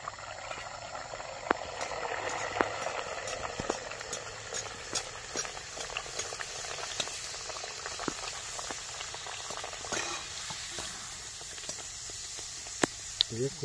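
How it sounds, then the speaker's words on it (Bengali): Lafa kachori frying in hot oil, a dense bubbling sizzle with scattered crackles and pops, steady and close throughout, with faint talk in the background. "কচুরিগুলো ভেজে নিচ্ছি।"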